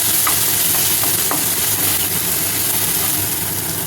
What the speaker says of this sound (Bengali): এবার টমেটোটাকেও খুব ভালোভাবে মানে সব একসাথে ভাজা ভাজা করে নেবো।